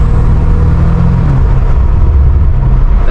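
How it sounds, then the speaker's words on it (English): A catless BMW F90 M5 Competition accelerating, loud close engine rumble with rising turbo whine and drone, a brief shift in pitch partway through, continuous and heavy, no talking. "The turbos sound insane."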